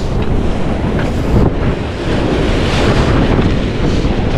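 Ocean waves break on a rocky shore on the coast of east Izu, a loud continuous roar of surf with heavy wind buffeting the microphone.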